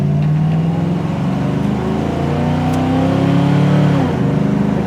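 A 1970 Chevy Camaro restomod pulling away in first gear, its engine loud and close with a rising, wavering rev that climbs over several seconds, then eases and drops near the end.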